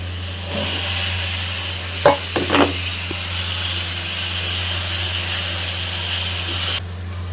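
Spices fry with a steady loud sizzle in a pan as vegetables are added, a few brief scraping stirs breaking in before the hiss carries on and cuts off.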